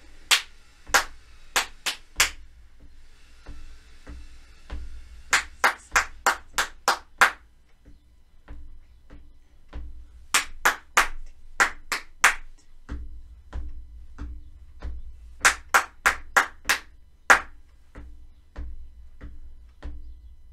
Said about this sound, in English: we're going to use our thinking voice to say the words, but we're going to clap them with our hands